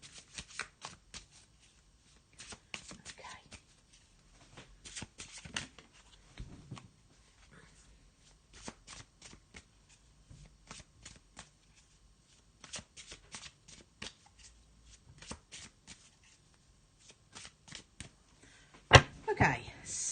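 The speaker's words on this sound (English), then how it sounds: "let's just get them and have a little shuffle" Tarot cards being shuffled in quick, crisp riffling bursts with short pauses between, close and fairly quiet, ending in a louder flurry.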